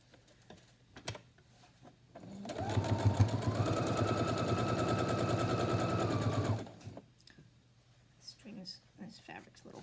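A sewing machine stitches a fabric face mask in one loud, steady rapid burst lasting about four seconds, with quiet handling noises and light clicks before and after.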